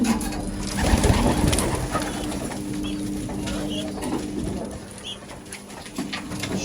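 Pigeons cooing in a loft, repeated soft low coos from several birds close by, with faint rustling and a few light flutters throughout.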